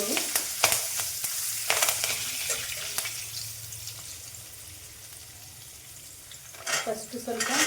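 Curry leaves drop into hot oil while making crispy poha chivda, bursting into loud crackling spits and pops, then settling into a softer steady sizzle before another round of sharp crackles near the end.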